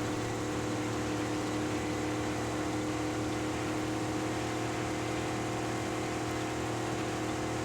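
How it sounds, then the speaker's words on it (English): A car engine in the video game Mad Max holds a steady, loud, continuous drone with a sustained rumble that stays even throughout, and no talk over it. "this car sounds mean with the engine in it"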